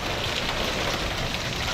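Hail falling outdoors makes a dense, continuous patter and hiss that stays even and moderately loud throughout, with no voices.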